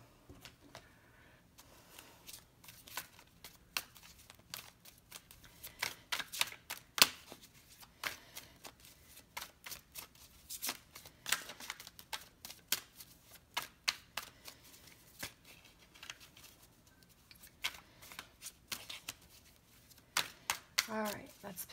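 Tarot cards shuffled by hand in a quiet room, a run of soft, rapid riffles and flutters in irregular bursts, close but faint, with brief pauses between shuffles and no voice over them.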